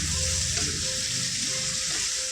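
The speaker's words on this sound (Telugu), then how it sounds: "ఈ విధంగా కలర్ వచ్చే వరకు ఫ్రై చేసుకోవాలి" Chicken pieces frying in a pan for a village-style chicken shorva, a steady close sizzle and crackle with occasional stirring and no voices.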